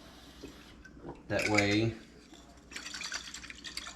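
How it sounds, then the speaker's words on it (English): Tap water runs into a bottle holding leftover deer jerky marinade, a brief bubbling fill with gurgling tones, followed by fainter trickling and splashing under a short spoken remark. "we're gonna run some water in it"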